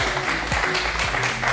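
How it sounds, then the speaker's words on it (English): A crowd applauds a live painter at a streamed performance, brief continuous clapping heard in a short burst. "Let's give him a round of applause."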